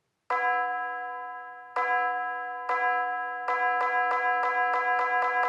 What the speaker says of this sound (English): We need a bell, obviously, so let's add a pattern.